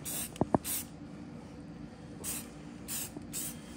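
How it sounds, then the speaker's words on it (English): Short bursts of spray paint being applied to an AK-104 rifle: two quick hissing sprays near the start, then two or three more spaced bursts after a quiet gap, with a faint background hum. "I'm going to not overspray my own rifle."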